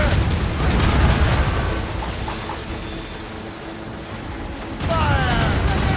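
Ship cannons firing during a naval battle in the Assassin's Creed Rogue video game, heavy booming volleys rolling out at the start and again near the end over a constant low rumble of sea and battle noise.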